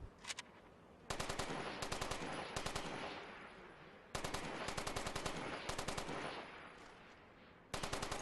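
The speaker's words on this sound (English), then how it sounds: "So let's try some shooting while strafing." Rapid automatic gunfire while strafing in the MAG beta training grounds, several long bursts of sharp, evenly spaced shots separated by short pauses, loud and close.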